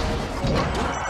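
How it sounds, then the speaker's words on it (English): A hard forward smash lands in a Super Smash Bros. Melee doubles match, a single loud crunching impact filling the short moment amid arena noise. "Rev, gets the wrong hit of F smash"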